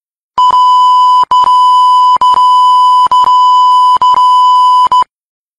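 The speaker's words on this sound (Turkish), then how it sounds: "Burayı neden bipledik" A loud, steady 1 kHz censor tone over profanity in Turkish speech, sounding as a run of near-continuous beeps broken by brief gaps, with no other sound under it.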